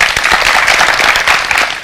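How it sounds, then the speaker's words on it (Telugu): An audience breaks into applause, dense continuous clapping that stays steady and loud across the whole moment without a pause. "ఇతను గోజారు గట్టిగా చప్పట్లు కొట్టండి."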